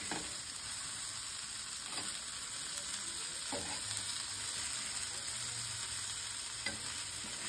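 Fish frying on a tawa pan, a steady close sizzle with crackle running throughout, with occasional scraping or turning sounds and no talk.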